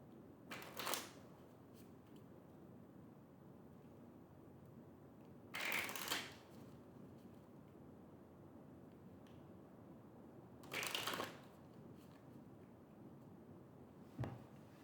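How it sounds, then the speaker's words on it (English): Shamanic healing cards shuffled three times in short riffling bursts spaced several seconds apart, close and soft against a quiet room hum, with no talking. "Let's get some shamanic healing cards here."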